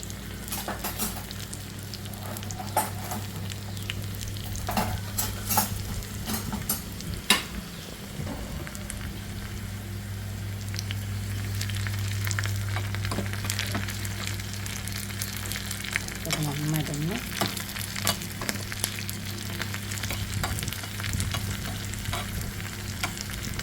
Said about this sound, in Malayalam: ഇഞ്ചിയൊക്കെ ഒന്ന് മൂത്ത് കിട്ടട്ടെ കേട്ടോ ആ പച്ചക്കറിയൊക്കെ ഒന്ന് പോകണം